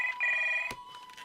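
A telephone rings with a bright electronic tone, a steady sustained ring cut off by a sharp click, followed by faint lingering tones; no talk over it.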